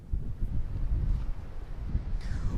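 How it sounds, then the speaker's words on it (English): Strong wind gusting outdoors in Farmington, roaring and buffeting close to the microphone as a continuous low rumble with rising and falling surges, no voices. "And the winds are blowing out there."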